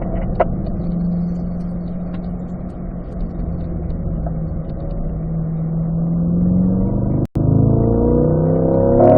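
A car on a race track runs steadily under load with a droning engine note, then briefly cuts out as the driver shifts gears, the engine pitch rising again afterward.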